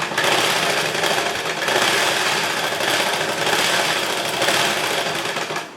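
A sewing machine stitches a lining blouse in a steady, continuous run, its close mechanical whir holding an even level throughout with slight surges in pace and no talking.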